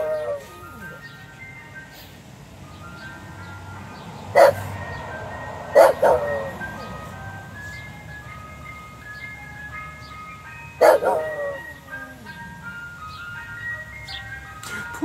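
A dog barks in a few sharp, close bursts at a passing ice cream truck, whose chiming jingle plays steadily in the background with some traffic noise.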